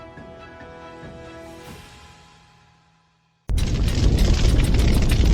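A deep boom from an object from space striking Earth erupts abruptly after a fading tone and near silence, then sustains as a loud, rumbling roar of explosive noise.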